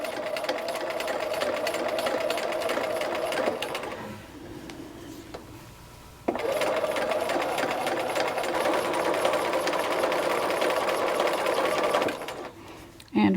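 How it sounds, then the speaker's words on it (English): A sewing machine stitches the collar onto a knit dress, whirring steadily at close range, stopping for about two seconds midway, then running again before halting, with a person talking over it. "and I'm just gonna start stitching."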